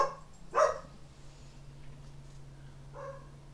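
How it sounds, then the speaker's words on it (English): A dog barks a few times indoors, one sharp loud bark near the start, then a fainter bark toward the end over a low steady hum, with no talking. "My dog is telling me that my wife is home."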